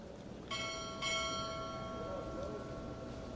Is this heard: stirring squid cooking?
no